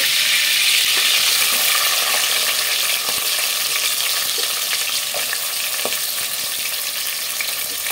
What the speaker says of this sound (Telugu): చక్కగా ఇవి బాగా కలర్ వచ్చే వరకు వేపుకోవాలన్నమాట. ఇవి బాగా వేగాలండి, వేగనిద్దాము.